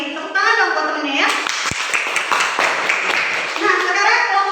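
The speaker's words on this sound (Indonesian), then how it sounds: "Tepuk tangan dong buat temennya ya." Schoolchildren in a classroom clapping for classmates after a group presentation, a burst of quick, close claps mixed with children's voices, between stretches of an adult talking.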